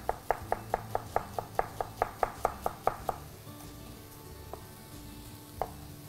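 A knife chops onion finely on a board, about fourteen quick, evenly spaced, close and crisp strikes over three seconds, followed by a quieter pause with a couple of faint clicks and a soft kitchen hum.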